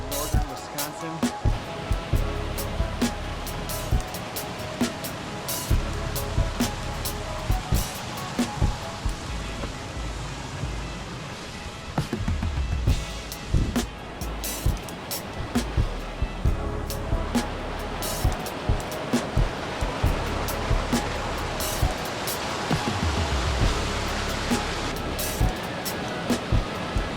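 A waterfall near Ashland in northern Wisconsin, likely Morgan Falls, sends up a loud, continuous rushing roar of falling water that stays steady and close throughout.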